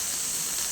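Pressure cooker on a gas stove venting steam while cooking Bihari-style jackfruit curry, a steady bright hiss at moderate level throughout a brief moment, no voices.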